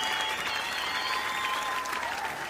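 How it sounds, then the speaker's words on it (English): Dense, even applause with a faint crowd murmur carries on steadily without a break, welcoming a guest on a podcast. A thin electronic tone runs beneath the clapping. "Let's have some virtual applause from Professor."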